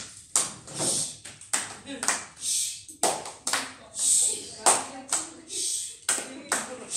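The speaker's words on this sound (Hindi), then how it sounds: "राकेट ताली देख लेंगे पहले।" Yoga trainees clap together in a patterned group routine called a rocket clap, sharp bursts of clapping in an uneven rhythm with short pauses between, fairly close and moderately loud.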